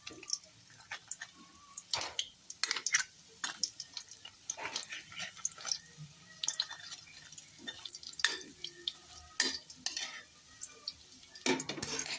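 A monggo pie fries in a pan after being flipped, with a soft sizzle and scattered crackles. Utensils clink and scrape against the pan now and then, with no talking.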